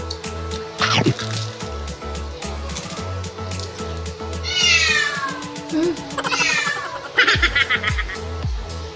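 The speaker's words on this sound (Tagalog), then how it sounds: "Shout out sa pusa namin." A house cat meows several times close by in a kitchen during a fried chicken meal, its calls rising and falling over steady low humming, clinking and liquid sounds.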